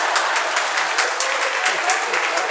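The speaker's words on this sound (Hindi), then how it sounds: "मौन को, शांति को तो भंग कर ही दिया तालियों के द्वारा।" Sustained applause from an audience at a Jain sermon by Acharya Vidyasagar at Shirpur, dense rapid clapping from many hands, steady and fairly loud throughout.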